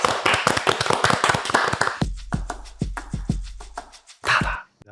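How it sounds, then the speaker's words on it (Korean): Studio members applaud together at a Korean motion graphics studio, a burst of dense, close hand clapping that thins into a few scattered claps and ends in a brief final flourish. "이 설문에 참여해주신 우트 구성원 분들께 감사의 박수 한번"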